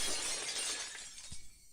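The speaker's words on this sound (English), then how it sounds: "The unpleasant, piercing sound of shattered glass," Glass shatters in a sharp, bright crash that rings out and then thins into scattered tinkling fragments, close and loud with no voices.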